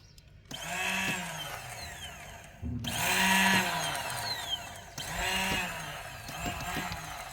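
A TGB quad bike's starter motor whirs in three long bursts without the engine catching, a grinding mechanical spin that rises and falls with brief pauses between attempts, close and loud.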